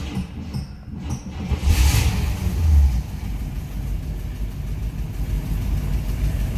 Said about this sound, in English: Let's go ahead and fire this up and hear how it sounds